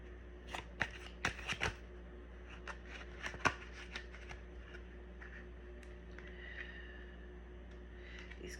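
Tarot cards are shuffled softly and close by, with a cluster of quick riffling snaps followed by quieter sliding and tapping in an otherwise hushed room.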